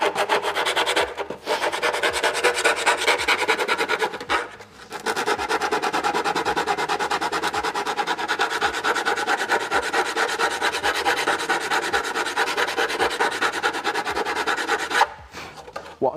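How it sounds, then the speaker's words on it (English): Rhythmic rasping strokes of sandpaper work along the edge of a TIE pilot helmet, a close, steady back-and-forth rub with a few short pauses between passes. "What I'm trying not to do here is to touch these edges while I'm sanding this edge"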